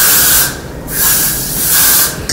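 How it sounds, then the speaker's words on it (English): Loud, close hissing of an aerosol hair freeze spray in two long bursts separated by a brief pause, sprayed onto a lace wig. "I'm going to just spray it on here,"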